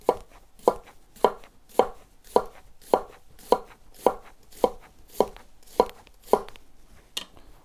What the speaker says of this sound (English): we're gonna do the push chop, which is where you're basically coming in and pushing into the product at an angle and finishing